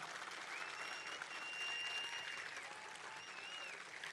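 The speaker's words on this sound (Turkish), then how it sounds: "alkışlayın bu başkanı, alkışlayın" A crowd at a political rally applauds the mayor, steady dense clapping filling the space with faint whistles or cheers rising above it throughout.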